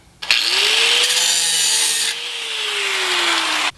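Power tool grinding the corner off a steel rocker panel, one continuous loud cut of about three and a half seconds with a steady whine that sags slightly near the end, close by and with no talk.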